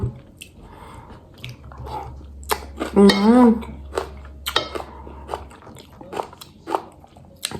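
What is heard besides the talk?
chewing crunchy unripe fruit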